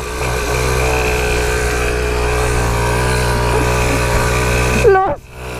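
A pocket bike engine drones steadily and loudly as it accelerates across a field, then its pitch drops sharply near the end.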